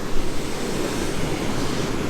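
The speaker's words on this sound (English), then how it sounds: "You just keep hearing the thunder of the waves" Waves crash and roll onto an English east coast shore, a broad, loud wash of surf churning steadily with wind rumble and no talking.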